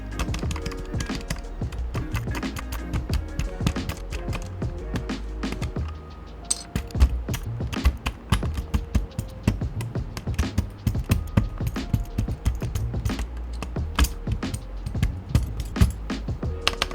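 Keycaps being pulled off an Akko Rosewood mechanical keyboard, a steady run of dense, close plastic clicks and clacks that continues without a break for the whole stretch, with no talking.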